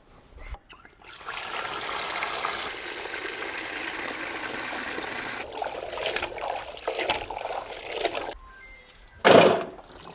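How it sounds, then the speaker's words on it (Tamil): Pumpkin pieces and lentils rinsed in water, a steady trickling and sloshing run for several seconds, then brief splashes and a louder final pour, with no talk. "அடுத்தது நாங்கள் பூசணிக்காய் இந்த பருப்பையும் கழுவி எடுப்போம்."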